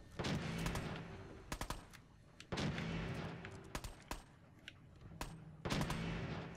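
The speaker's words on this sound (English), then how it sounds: "Oh, they're shooting whatever that guy is." Gunfire in Fallout 4 comes in several loud automatic bursts separated by brief pauses, with sharp single shots between them and some sharp distant cracks.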